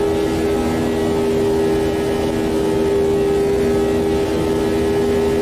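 A race car in Automobilista 2 at Monza holds constant high revs, a loud steady engine whine with strong sustained tones and almost no variation, heard alone.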